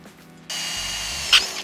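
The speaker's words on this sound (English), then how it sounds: "mark out the pulleys on the piece of steel and get ready to drill them out." A drill bores pulley holes into a piece of steel, a steady whine that starts abruptly and runs evenly, with a brief sharp screech near the end as the bit bites.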